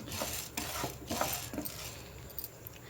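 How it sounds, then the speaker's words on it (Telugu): Urad dal roasting in a pan on the stove: dry rattling and scraping as the lentils are stirred, with light spoon clinks over a soft continuous sizzle, close and fairly even. "స్టవ్ పై ప్యాన్ పెట్టుకొని టూ స్పూన్స్ మినపప్పు వేశాను"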